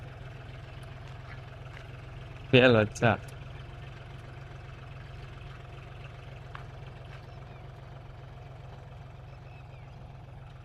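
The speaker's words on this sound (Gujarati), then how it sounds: "ચાલુ કરી દીધું એ ટ્રેક્ટર જો" A tractor engine runs steadily in a village field at sowing time for groundnut, a low, even idling drone throughout, briefly interrupted by a man's short spoken remark.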